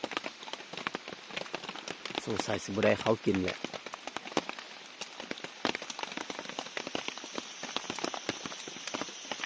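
Steady rain patters on surfaces outdoors in a rural hunting setting, a dense wash of drops with occasional sharper hits, while someone talks over it throughout.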